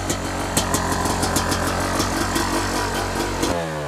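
A two-stroke motorcycle engine catches on the second kick with the choke on and runs loud and close with a rough, rapid firing rhythm, then cuts off abruptly near the end.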